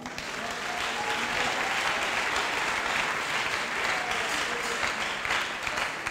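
Church congregation applauding steadily for several seconds, a dense, continuous wash of clapping with a few faint cheers in the crowd, no speech over it.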